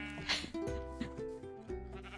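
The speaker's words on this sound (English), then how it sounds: "I'm going to take the rogue sheep and put the rogue sheep in the pen" A stray sheep bleats in the Minecraft video game, giving a close, wavering baa that repeats a couple of times in quick succession.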